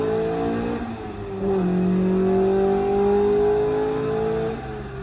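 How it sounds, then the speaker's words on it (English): A 1990 Honda CRX engine on a dyno revs hard and climbs steadily to a high, sustained whine near 8,000 rpm, loud and close, then holds near the top of its range. "Revving it to 8 grand. Doesn't drop out of VTEC once."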